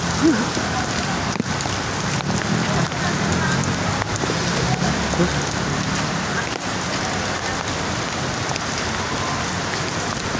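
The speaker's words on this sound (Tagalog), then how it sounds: "Malakas kasi yung ulan." Steady, dense rain pours down continuously, a broad hiss of drops drumming on surfaces with a few louder knocks, fairly close and loud throughout.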